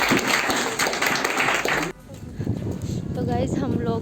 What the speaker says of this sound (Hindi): बाद फिर तालियां।